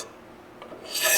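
An axe head has its factory epoxy coating scraped or sanded away, a short close rasping that starts faint and swells into a steady, harsh scrubbing.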